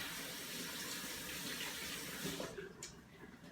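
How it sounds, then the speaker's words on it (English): A kitchen tap runs in a steady, close rush while a soft red pepper is rinsed beneath it, and the flow breaks up into splashes near the end. "Now this red pepper is getting a little soft in some areas, but I'm just gonna rinse that."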